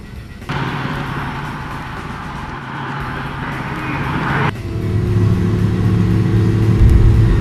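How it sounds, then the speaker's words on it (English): A Volkswagen car accelerates down a quarter-mile drag strip at Great Lakes Dragaway, heard from inside as a loud, steady engine drone that shifts character after each gear change and builds toward the end. "We're going down a quarter mile, nice and easy. Car's pulling pretty good."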